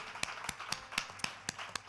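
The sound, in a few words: audience applause for the sound engineer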